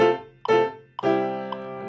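Piano chords struck one after another, three in all, with the highest note ringing out above the rest and each chord sustaining.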